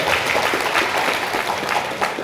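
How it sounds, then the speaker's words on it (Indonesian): An audience at a seminar in a hotel claps together, a steady patter of many hands that sounds slightly distant and fills the room for a couple of seconds. "Tepuk tangan untuk kita semua ya."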